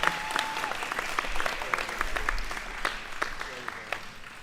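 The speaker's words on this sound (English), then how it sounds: "Let's give them a round of applause." A crowd at a pro wrestling event applauds as the wrestlers come out, with moderate clapping and a few sharper individual claps, mixed with crowd murmur and voices.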